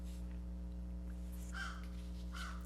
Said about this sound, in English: you can hear the birds in my yard